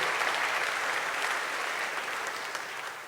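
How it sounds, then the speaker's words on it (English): A crowd claps steadily for about three seconds, a dense wash of applause that tapers slightly toward the end. "Let's give Michelle a big round of applause."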